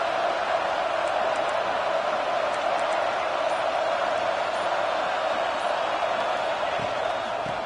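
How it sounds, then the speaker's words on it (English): A stadium crowd roaring at a football game, a loud, steady wall of cheering and noise that holds without pause throughout. "this crowd is fired up. Listen to this noise here."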